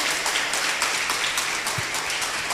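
A church congregation applauds loudly, with dense, continuous clapping from many hands that fills the whole stretch with almost no voice over it.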